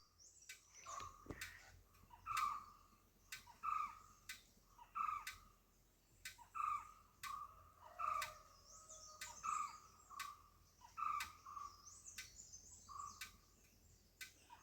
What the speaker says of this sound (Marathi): ह्या बाजून एक पक्षी आरडता आणि त्याचा ऐकन दुसऱ्या बाजून आरडता सेम